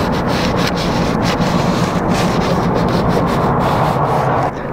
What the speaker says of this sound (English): fold it up, you know, and just start rubbing.